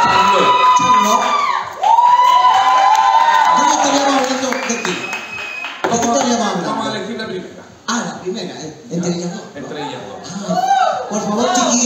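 Drag casting audience applauding and cheering for contestants, a loud crowd of whoops, shrieks and clapping filling the whole stretch, with laughter and chatter mixed in.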